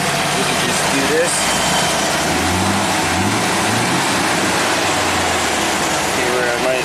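A 2002 GMC W4500 dump truck's V8 engine runs steadily at idle up close, a continuous low rumble under someone talking.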